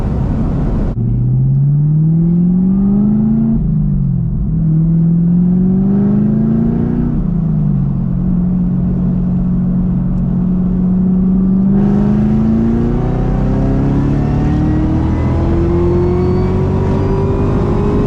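Chevrolet Camaro ZL1 engine pulling hard through the gears, its pitch rising through each gear and dropping at every shift, loud and continuous from inside the car with no talking.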